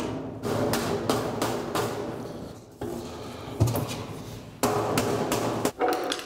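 Sheet metal top being tapped into place on a furnace plenum, with repeated knocks and metallic clanks in an uneven rhythm, close and fairly loud, in a workshop with no talking.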